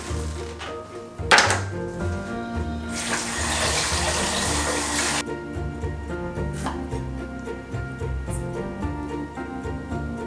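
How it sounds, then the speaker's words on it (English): Tap water runs steadily into a kitchen sink as strawberries are washed for homemade jam, a loud broadband rush lasting a couple of seconds after a sharp thunk, with kitchen background noise continuing beneath. "I'm gonna wash this first and then just take off the leaves of the strawberries."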